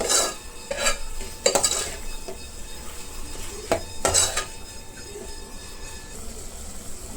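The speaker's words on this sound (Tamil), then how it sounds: "தக்காளி சேர்த்து நல்லா அந்த தக்காளி மசிஞ்சு வர அளவுக்கு நல்லா வதக்கிக்கணும்" Tomatoes being sautéed for a mutton gravy, a metal spoon scraping and clinking against the pan in irregular bursts over a soft steady sizzle, close by with no talk.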